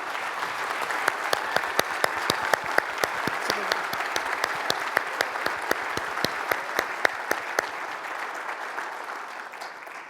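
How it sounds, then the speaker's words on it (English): An audience at a charity classic event applauds award honorees. Dense, sustained clapping carries a few sharp, close hand claps standing out on top, and it holds steady throughout before easing slightly at the end. "let's give Michelle, Molly, Chris, Becky, and Robin one more round of applause"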